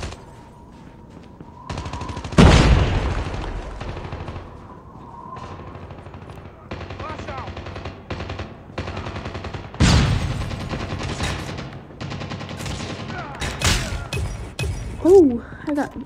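Gunfire in a Call of Duty match played on a PS4 controller: a few sharp, loud shots and bursts separated by quieter stretches of game noise, with brief in-game chatter in the background.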